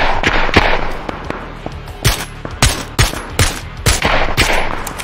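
Gunfire rings out from several directions during a solo-versus-squads Fortnite match, with sharp shots landing in rapid, irregular bursts, some close and loud, others more distant, spread across the whole moment.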